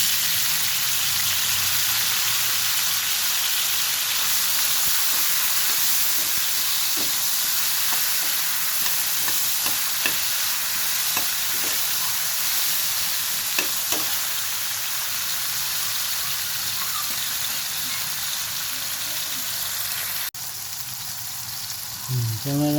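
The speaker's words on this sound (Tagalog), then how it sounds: "Lutuin natin ang kamatis." Tomatoes sauté in a pan with a steady, loud, hissing sizzle, broken by occasional soft stirring clicks and a brief clatter near the end.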